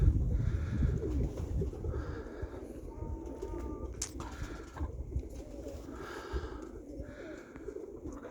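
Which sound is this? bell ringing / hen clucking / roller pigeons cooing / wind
roller pigeons cooing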